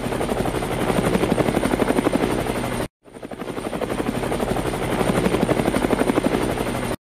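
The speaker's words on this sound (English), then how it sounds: "Let's get in the helicopter." A helicopter's rotor thumps in a rapid, steady beat close by, loud and continuous, cutting out briefly before resuming.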